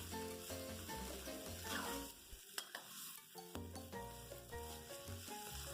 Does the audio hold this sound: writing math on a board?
no